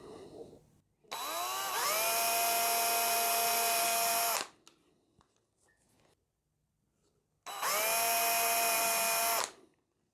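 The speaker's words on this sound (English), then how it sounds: "I'm literally just going to take a small drill and drill a couple of holes in the middle of there" Small power drill boring holes in a Rickenbacker 620/12 guitar body, two loud whining bursts of a few seconds each separated by a quiet pause with light handling clatter.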